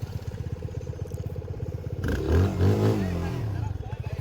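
A motorcycle engine idles nearby with a steady low throb during an off-road outing, and a voice talks over it partway through.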